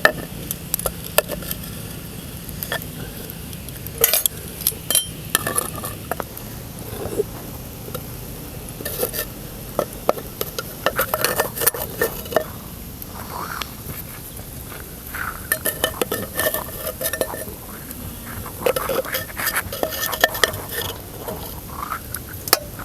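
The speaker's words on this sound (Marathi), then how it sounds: "भांड्यात काढून घेते आता या पाण्यातलं सगळं" Boiled sweet potatoes are lifted out of their cooking water into a clay pot, with scattered clinks, knocks and wet patters of utensils against vessels over a quiet background.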